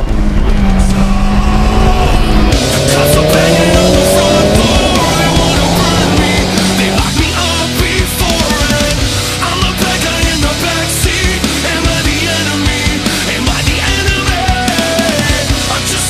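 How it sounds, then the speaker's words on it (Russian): A Nissan Bluebird SSS Attesa turbo with the SR20DET engine accelerates hard on a road, its engine a loud, continuous roar that climbs in pitch through the revs and never lets up. "Сейчас вот ровный участок дороги найдем и попробуем замерить разгон."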